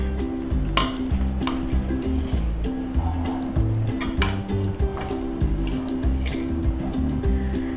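Chicken biryani stirred in a cooking pot, a spoon clanking and scraping against the metal pot in irregular repeated knocks, with soft squishing of rice beneath and a low steady hum in the background.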